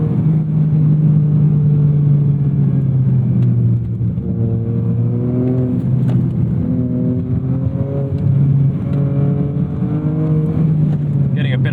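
A turbocharged car engine, from a Lancer Evolution IX GSR or GR Corolla with aftermarket exhaust, hums and rises in pitch as it accelerates, steady and fairly loud, with smooth revving climbing through gears.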